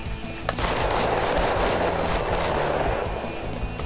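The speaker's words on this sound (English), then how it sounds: "This gun is very loud for a pistol." Rapid, loud pistol fire in the video game Totally Accurate Battle Zombielator rattles off in a dense burst of shots, close and continuous, with no speech.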